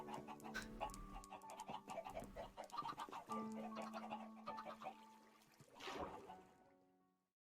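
Chickens clucking in a video game, a busy run of short clucks and squawks close up, with a louder flurry near the end before fading out.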